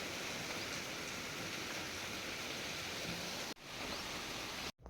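Rain falls in a steady, dense hiss that fills the whole stretch, briefly cutting out twice near the end.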